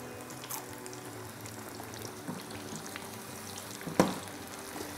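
Pakoras frying in hot oil on high heat, a continuous moderate sizzle and bubbling with a brief clatter near the end.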